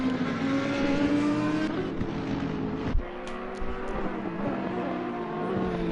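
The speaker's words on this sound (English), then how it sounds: "Coming up hard on the brakes into Shell's Oil corner." Race cars at Oulton Park braking hard into Shell's Oil corner: loud, droning engine notes drop in pitch as they slow, with a sharp click midway and a steadier engine hum afterward.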